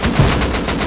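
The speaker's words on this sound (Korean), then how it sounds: "너 폭발탄만 쏘면 돼" Rapid burst of explosive-round gunfire during an online raid in the Rust video game, roughly seven or eight sharp loud shots packed close together in under a second, with no talking.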